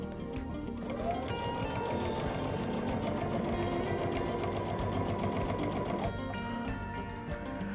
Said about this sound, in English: Probably best to stitch a little slower to make sure that you're staying straight